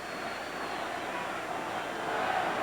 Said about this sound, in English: Vociferous crowd obviously disagreeing with the call.